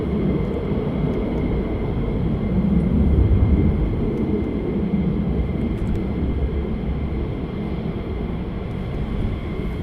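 Fighter jet on approach to land at RAF Lakenheath, a steady broad engine roar, loud and continuous, swelling slightly midway, with no talk.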